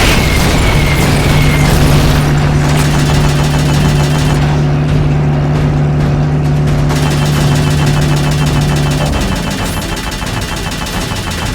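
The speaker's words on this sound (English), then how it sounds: "They're about to commence the requested supporting fire." Supporting artillery fire in the video game Metal Gear Solid Peace Walker makes a dense, continuous roar of booms and bursts, loud and close, with a steady tone underneath that cuts off partway through and then eases slightly.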